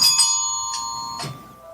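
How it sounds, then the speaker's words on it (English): Bells ring out in a few separate bright strikes with lingering tones fading between them, heard at moderate distance during a band's practice hour. "I hear bells."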